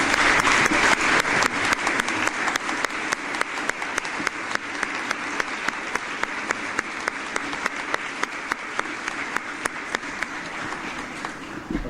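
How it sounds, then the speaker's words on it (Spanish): Audience at a university symposium closing ceremony applauding the support staff, with steady, dense clapping from a large crowd that holds even throughout, near and loud, with no talk over it. "yo quisiera que le diéramos un aplauso a todo este personal"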